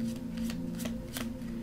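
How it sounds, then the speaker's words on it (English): Quick bursts of tarot cards being riffled and shuffled, several crisp papery flutters in a close, quiet setting. "I'm just going to shuffle."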